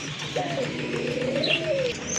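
A big Bombay pigeon, one of a breeding pair, gives a single soft drawn-out coo close by, with faint chirps and steady room noise behind it.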